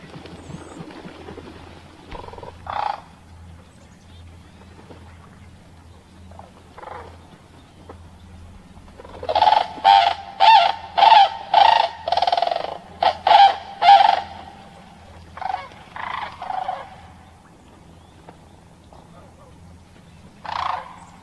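Sandhill cranes, a resident pair defending territory, give loud rolling bugling calls in a burst of about eight strong pulses, then softer scattered calls, with a low steady hum underneath.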